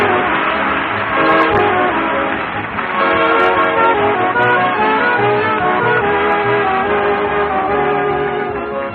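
A train departs, rumbling loudly and steadily with a sustained horn-like tone, a 1940 radio show sound effect with a narrow, dull quality.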